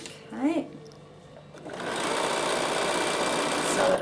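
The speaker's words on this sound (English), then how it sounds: "Sew it along, needle position to the right, go around your curve, remembering to stop often on your curve." Sewing machine stitching reverse appliqué around a curve for a garment bag, a steady close whirring run that starts after a brief voice and continues unbroken to the end.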